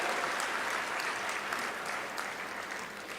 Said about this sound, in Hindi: ताली बजा के उनका स्वागत करें